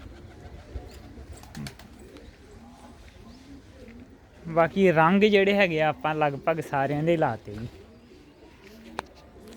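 Pigeons in a loft coo in soft, rolling throaty calls, with a louder burst of cooing in the middle, while someone talks over them nearby.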